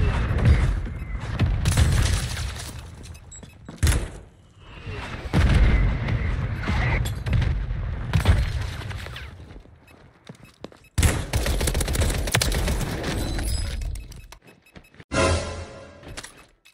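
Loud gunfire in the video game Warzone, with sniper shots among heavy bursts of shooting and booming blasts that come in long stretches separated by brief silent gaps.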